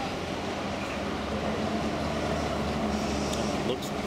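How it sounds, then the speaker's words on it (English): Tram number 15 rolls past on a street in Basel, Switzerland, a steady broad rumble with rail and motor hum holding close and constant throughout, with no voices over it. "Here is the tram, number 15."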